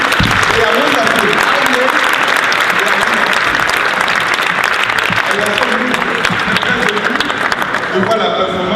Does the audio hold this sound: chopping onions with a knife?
no